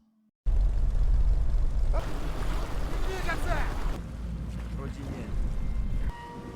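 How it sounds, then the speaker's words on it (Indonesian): A ship sailing across open sea in a zombie outbreak film: a loud, continuous wash of wind and waves, swelling in the middle, then settling slightly softer toward the end. "muncul dari arah depan sebuah kapal yang berlayar ke arahnya"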